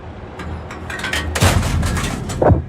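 Two heavy booming tank cannon shots in World of Tanks, the first a big blast with a rumbling tail and a second shorter boom, over low engine rumble.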